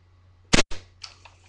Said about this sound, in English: And I'll dry fire it for you right now.